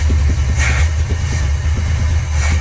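A 1969 Chevrolet Chevelle SS engine restarted after 26 years, running on old bad gas with a carburetor fault, gives a loud, steady, close idle with a rhythmic low pulsing and no voices.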